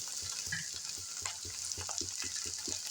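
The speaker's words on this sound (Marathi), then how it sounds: "सगळं मिक्स होईल असं आपल्याला परतून घ्यायचं आहे" Pav bhaji vegetables with chutney sautéing in a pan, with a steady close sizzle and frying hiss and repeated soft scraping stirs in an uneven rhythm.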